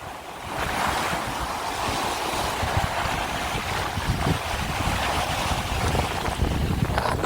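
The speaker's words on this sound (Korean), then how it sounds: "바람도 차고 파도는 뭐 지금은 한 1m 정도 잔잔합니다." Steady roar of sea waves breaking on a cold, windy coast, waves about a metre high, with wind buffeting the microphone throughout; dense and fairly loud with no voices.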